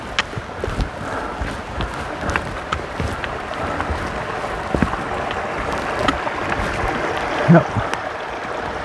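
A small brook flows beside an Appalachian Trail crossing at Sluice Brook, a steady close rushing wash of water with scattered footstep knocks and a brief spoken word.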